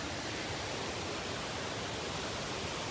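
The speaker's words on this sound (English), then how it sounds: "I'm here at a waterfall." Mountain waterfall in North Carolina, heard as a steady, dense roar of falling water filling the whole sound evenly with no pauses and no other sounds.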